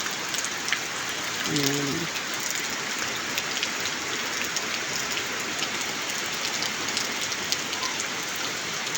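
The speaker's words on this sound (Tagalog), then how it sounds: "Sana'y ulan lang" Steady rain falls on the ground in a rural province garden plot where bitter gourd, squash and chayote grow, a dense even hiss throughout with a brief voice speaking early on.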